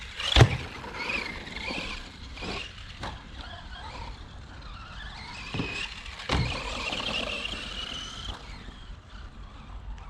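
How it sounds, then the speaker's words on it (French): A Funtek STX RC truck fitted with real tyres and shock absorbers brakes while turning, making a short tyre squeal and scrub over a steady whirring motor, with several sharp clicks and bumps across the run, close by. "Si maintenant je prends un virage et je veux freiner, regarde, tac, t'as vu ça?"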